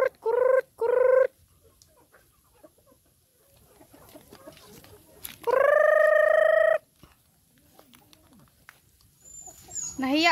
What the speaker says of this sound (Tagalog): Yan yung mga native chicken.